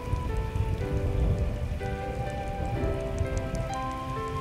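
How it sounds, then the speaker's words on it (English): Heavy monsoon rain rendered as an audio drama effect, a dense, steady wash of downpour on surfaces with a faint musical tone line over it, loud and continuous throughout with no voices. "For weeks now, the monsoon has raged without letting up"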